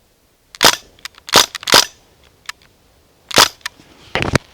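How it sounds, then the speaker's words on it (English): A DPMS SBR select-fire BB gun fires in semi-auto, loud sharp cracks with several single shots at uneven intervals and short quiet gaps between. "It's because it's actually a BB gun. And the selector has all three positions. So currently it's in semi-auto."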